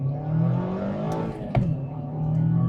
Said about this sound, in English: let's try like a 0 to 60 really quick